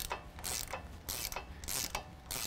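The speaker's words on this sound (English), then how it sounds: "next we're gonna tighten down our tie rod to 44 foot-pounds" A ratchet wrench tightens a tie rod on a 2014-2017 Chevy GMC 1500 4WD during a lift kit install, making a steady run of loud, close clicking strokes without speech.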